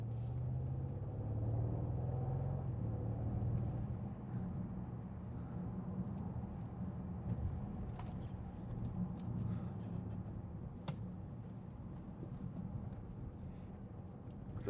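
A Bentley Continental GT V8 S, a 2014 4.0-litre V8 coupe, burbles steadily at idle with a deep low rumble that continues throughout, fairly close, with no speech.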